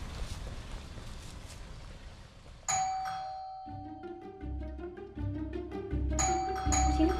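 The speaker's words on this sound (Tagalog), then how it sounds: "Pindutin mo na yung doorbell." A doorbell rings with a bright ding-dong chime pattern after a short stretch of low background noise, repeating its tones over a soft musical bed.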